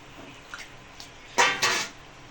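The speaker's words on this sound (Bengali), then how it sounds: "এখন আমি এই ভিজিয়ে রাখা পনিরগুলো আর দুধটা এর মধ্যে" Soaked paneer and milk poured into a pan of masala, a couple of faint clinks followed by two loud splashing, scraping bursts of liquid and metal close at hand.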